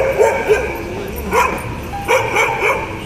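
A dog near the Trump building in New York yips and barks in short repeated bursts, loud and close, with a whimpering edge amid street noise.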